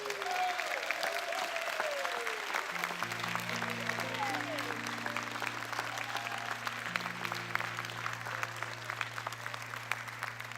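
A church congregation claps and cheers to welcome new members, with sustained crowd applause and voices while organ chords enter beneath and hold.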